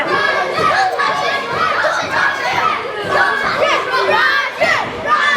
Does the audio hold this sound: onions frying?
no